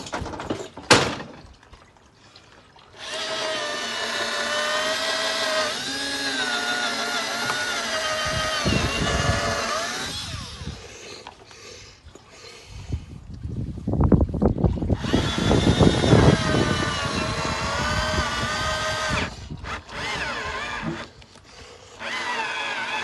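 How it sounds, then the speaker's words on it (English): Power drill pre-drilling timber for a planter, a whining motor that revs in long bursts and bites into the wood, with bumps and handling noise between runs. "Pre-drill it."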